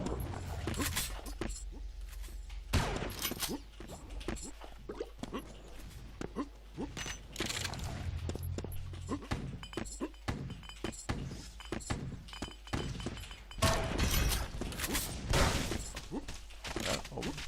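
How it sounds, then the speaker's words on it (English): Rapid weapon fire in a competitive arena shooter match, a railgun and rocket launcher among the shots, with sharp loud blasts and bursts recurring throughout over a busy background of game effects. "Nice 1-2 with the railgun and rocket launcher."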